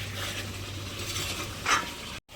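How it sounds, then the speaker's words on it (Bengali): Chicken sautéing in an iron kadai, a soft continuous sizzle with light stirring scrapes and a brief louder stir near the end, close and moderately quiet, no talk. "মাংস কষানো হচ্ছে"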